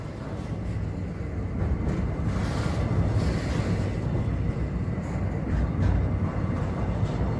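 A freight train on the Sumaré–Rondonópolis line rumbles past in a steady, heavy, continuous roar with rolling rail noise, loud and close throughout.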